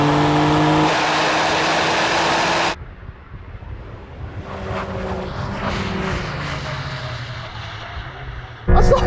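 A new Porsche 911 Hybrid launches hard in a drag race against an older 911, a loud roaring surge that drops away suddenly as it pulls off, leaving wind rush and a distant fading engine note.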